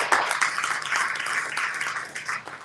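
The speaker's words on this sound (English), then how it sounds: "A round of applause for you." An audience claps after testimonies from Kenya are shared at an educational talk. The dense, steady applause runs throughout and sounds moderately near.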